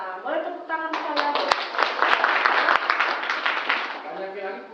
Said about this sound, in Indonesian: Boleh tepuk tangan saya.